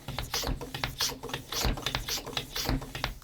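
Vacuum wine sealer hand pump worked on a sealed wine bottle, giving a quick, regular series of plastic clicks and short sucking strokes, close and fairly loud, with no voices.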